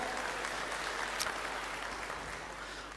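A large audience at an eighth-anniversary stage show applauds in a dense, steady wash of clapping that holds throughout before easing slightly at the end.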